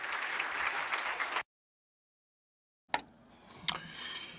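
An audience applauds a panel in a burst of dense clapping. The clapping cuts out to silence, then resumes more thinly with a couple of sharp claps and a rising patter.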